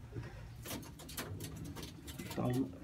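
Racing pigeons coo softly in a loft, low repeated burbling calls near the end over a murmur of background noise, with someone talking through much of it.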